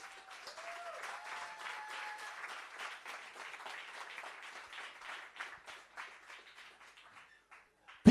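Audience applause greets exhibitors walking onto stage at a workshop and expo, steady dense clapping that thins and fades toward the end before a sharp loud burst at the close.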